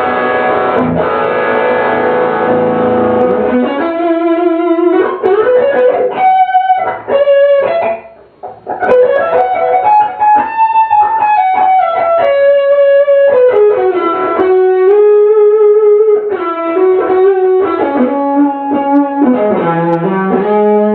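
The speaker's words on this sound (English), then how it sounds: "All right, this is going to be distortion." A Xaviere XV-700 electric guitar plays distorted through an Egnater Tweaker 15 amp head, loud sustained chords and held notes shifting through a slow riff with brief pauses and bends, no talking.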